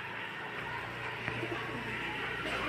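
Golden-eyed pigeons of an original golden breed coo softly and steadily in a loft, a low continuous murmur with no talking.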